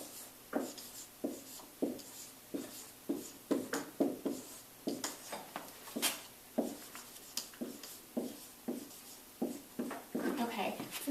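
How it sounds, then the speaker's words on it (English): Scratchy strokes of writing on a surface during a science lesson, a series of short rubbing bursts repeating at close range, fairly quiet, while a voice talks over them. "so let's write that down"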